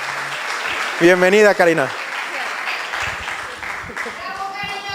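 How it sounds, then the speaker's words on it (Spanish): Audience applause welcomes Licenciada Karina Rentería to a Saturday coaching and training session, a steady wash of clapping running the whole stretch while a voice greets her near the start. "Denle un fuerte aplauso, por favor."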